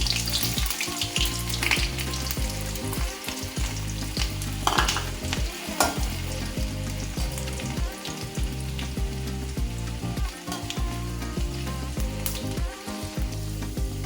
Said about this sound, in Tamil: எண்ணெய் நல்லா சூடானதுக்கப்புறம் நம்ம நறுக்கி வச்ச பூண்டும் இஞ்சியும் போட்டுக்கலாம்